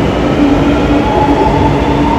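A metro train runs at speed in Chennai, a steady loud rumble of wheels on rail with a faint whine, continuous and close, with no talking.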